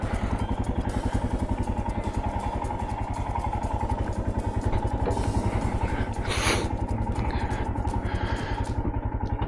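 A new 2024 Royal Enfield Himalayan motorcycle ridden at a gentle, steady pace, its engine thrumming in a continuous even pulse with wind rush, held at moderate revs without hard acceleration.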